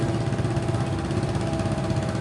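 Vintage 1970 656 demonstrator tractor idling during a farm show tractor parade, a steady, loud, close mechanical engine rumble with an even throbbing pulse throughout and no talk.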